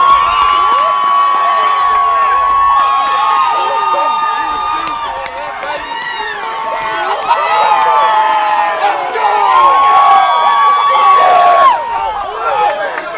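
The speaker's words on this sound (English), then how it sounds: "the home crowd is electric after the 3-run shot over the left field fence" A home crowd cheers at a high school baseball game at City Park in Fort Collins, Colorado, after a three-run home run over the left field fence. The whoops and shouts are loud and sustained, and an announcer talks over them.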